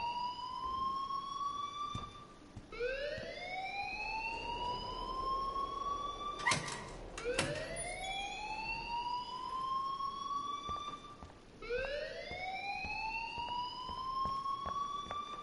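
A school alarm in Life is Strange keeps wailing in repeating rising sweeps, loud and insistent, each cycle restarting after a brief break.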